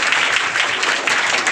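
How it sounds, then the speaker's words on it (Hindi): Audience applause at a quiz award ceremony, steady dense clapping from a crowd filling the whole moment without a break. "जोरदार तालियों से सम्मान कीजिए"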